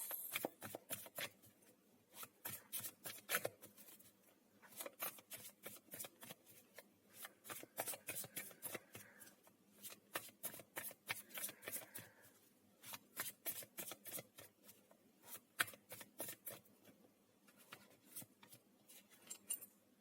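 Tarot cards being shuffled by hand, a long run of rapid riffling flicks and soft slaps, close and quiet, repeating in bursts with no talking.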